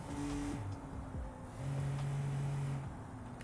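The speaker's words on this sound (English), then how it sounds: "Sounds very cool, this car." A 200-horsepower car engine in the BeamNG.drive driving game hums at a steady pitch, rising through a rev and then holding a sustained drone before dropping off, fairly quiet with no talk over it.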